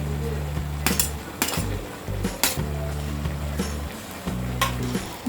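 Paneer matar pulao with roasted cashews, raisins and fried paneer being stirred in a pot, with repeated scraping and clinking of a spoon against the metal under a steady background hum.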